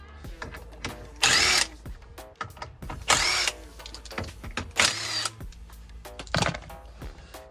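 Power tool loosening 17mm wheel bolts on a 2005 Mini One R50/R53 during rear wheel bearing work, heard as four loud, broad bursts of roughly half a second each with clinking handling noise between them.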